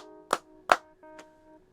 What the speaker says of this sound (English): we're gonna clap some more here for you